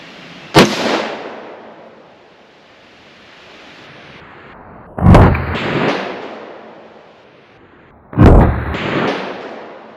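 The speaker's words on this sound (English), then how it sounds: "We're going to be taking some shots at about 35 yards here, so not too far." Three loud rifle shots fired through a UUQ 6 24X50AOG scope at about 35 yards, each a sharp crack with a long rolling echo, spaced several seconds apart outdoors.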